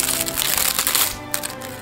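Crisp, gold-edged pages of a hardcover Legend of Zelda official game guide are handled and flipped up close, producing brief papery crackles and rustles.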